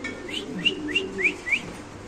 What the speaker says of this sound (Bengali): এত সুন্দর এক জোড়া কবুতর, এটা হলো বুখারা কবুতর